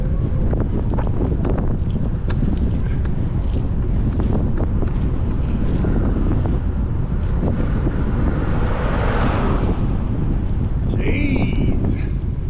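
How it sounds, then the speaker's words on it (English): Strong wind buffets the microphone during a Sunday ride, a loud, continuous roaring rumble that lasts the whole stretch with no break. "I don't remember all this wind. Man, wind picked up."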